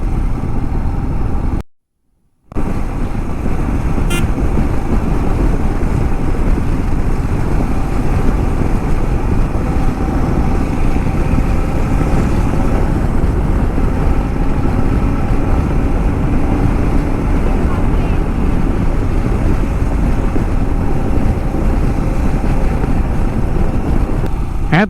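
Many motorbikes on an Independence Day group ride from Kolkata roll along together, a dense continuous engine drone and road roar, loud and close, broken by a brief dropout near the start.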